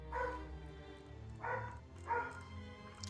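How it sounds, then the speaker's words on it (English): A dog barks three times in the background of a home setting, separate deep woofs spaced about a second apart, fairly clear and near, with low room hum between them. "I apologize if dogs are barking."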